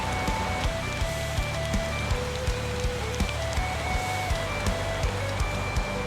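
Steady rain falling in a video game, an even, hissing wash of drops with faint rhythmic low thumps running underneath, constant throughout with no voices.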